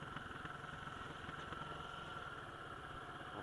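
A Suzuki DR350SE motorcycle engine ticks over in first gear in snow, a faint, steady, rapid low thrum with a light mechanical rattle, unchanging throughout and with no talk.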